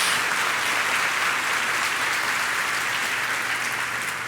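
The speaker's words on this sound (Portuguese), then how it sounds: "Dá uma salva de palmas ao Senhor" Congregation applause during a church service, steady dense clapping from many hands throughout, without a pause.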